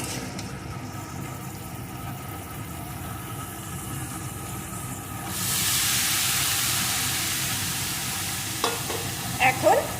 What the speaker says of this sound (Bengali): এইভাবে নাড়িয়ে নাড়িয়ে ওলুর ডাঁটাটা সুন্দর করে কিছুক্ষণ রান্না করে নেব